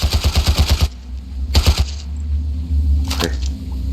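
Automatic gunfire in the shooter game Ravenfield: a fast, loud burst of about a dozen rounds, a pause, then a shorter burst of several shots and a brief final volley, close and sharp with no talk.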